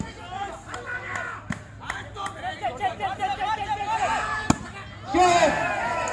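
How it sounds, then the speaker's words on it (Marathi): Outdoor crowd at a village cricket match in Maharashtra roaring and whistling with excitement, a dense babble of shouts swelling and surging louder near the end, with sharp cracks and bangs like fireworks punctuating it. "जबरदस्त मैदानामध्ये जल्लोष, मैदानाच्या बाहेर जल्लोष, मैदानाच्या मागे जल्लोष."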